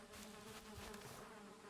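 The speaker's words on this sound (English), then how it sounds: "There is a beehive in here somewhere." Bees hum around a beehive in the video game Valheim, forming a soft, steady buzz that stays faint and even throughout, with no voices over it.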